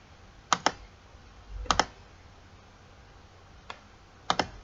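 Sparse keyboard typing in CorelDraw: four short bursts of a few crisp keystroke clicks each, separated by quiet pauses, close and fairly faint.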